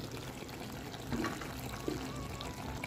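Water poured into a cooking pot, a steady close gurgling pour with a couple of brief louder splashes, quiet and with no speech.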